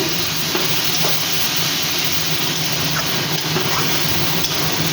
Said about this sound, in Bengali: কচুটা 5 মিনিট ভাজা ভাজা হোক